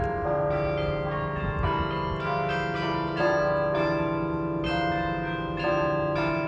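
Century Tower bells on the University of Florida campus in Gainesville, Florida, chime a sustained, ringing melody, loud and resonant, with overlapping tones that linger continuously and no voices.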